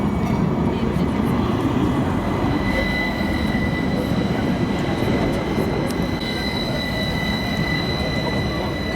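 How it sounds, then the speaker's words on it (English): A very old tram rolls along rails at a busy amusement park, a loud, steady rumble with faint squealing of the wheels and a thin high whine running throughout. "Got a very old tram there."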